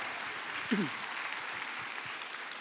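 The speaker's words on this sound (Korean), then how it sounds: "우리 가족과 우리 자녀들을 위해서 축복의 박수를 나누도록 하겠습니다" A church congregation claps together in blessing during a Christmas service, a short burst of crowd applause with a brief voice or cry rising over it near the start.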